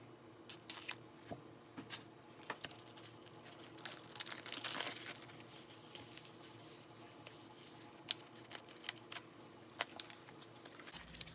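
Plastic wrapping around a Victorian tarot deck is torn and peeled away, with close, crisp crinkling and rustling and a few sharp snaps and pops scattered over a quiet background.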